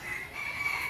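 A chicken crows or clucks near a flooded coop in rainy weather, a steady bright call running through the whole moment, clear and fairly close with no talk.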